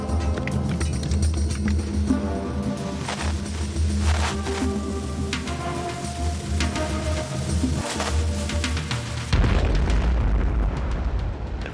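Mines set under a fort's foundations go off in a sustained, booming explosion with dense rumbling and crackling debris, then shift into a deeper, rolling roar toward the end.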